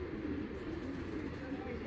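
Giribaz tournament pigeons coo softly and continuously from a loft, a low murmuring rumble with no distinct breaks, faint and close, over steady background noise.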